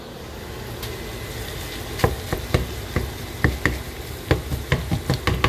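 Ground beef sizzles in a pan alongside browning ground pork as it is stirred and broken up, with a steady frying hiss punctuated by sharp, irregular scrapes and knocks of a utensil against the pan.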